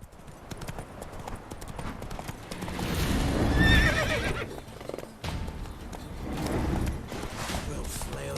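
Roach, the horse in The Witcher 3, gallops with brisk rhythmic hoofbeats and lets out a loud whinny midway, the steps continuing alongside game ambience and someone talking.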